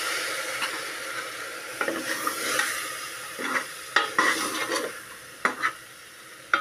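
Curry ingredients of potato, brinjal and onion-coconut paste frying in a pan for a kaju bean dish, a soft continuous sizzle with irregular spoon scrapes and taps against the vessel, near and without voices.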